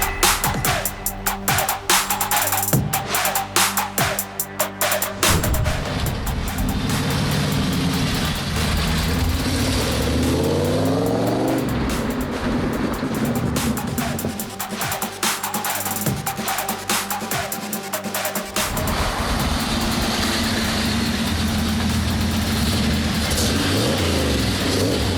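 A Chevrolet Camaro SS muscle car, a 310 hp V8 awaiting restoration, runs loud and close, idling with repeated throttle blips that rise and fall in pitch before settling back to a steady rumble.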